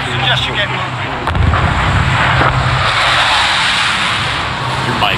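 A helicopter in a battle royale video game drones with a steady loud engine roar and rotor throb that continues throughout and swells briefly in the middle.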